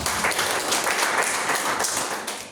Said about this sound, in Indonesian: Tepuk tangan dulu bagi kita